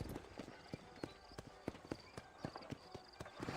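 Horse hooves in the video game Red Dead Redemption beat out a quick, steady clip-clop rhythm of sharp, evenly spaced thuds at close range, with a faint background bed and no talk over them.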